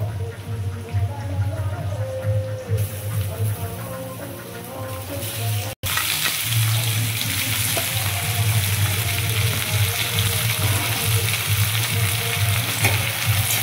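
Country chicken and onions sizzling and frying steadily in a hot pan, with occasional stirring; the sizzle grows louder partway through.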